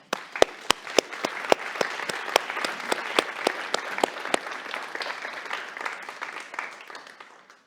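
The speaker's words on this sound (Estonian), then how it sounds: "ma arvan, nad on kõik ära teeninud aplausi." An audience at a business season opening event applauds its panelists, a few sharp individual claps leading into steady, moderately loud applause from a medium crowd that slowly thins out toward the end.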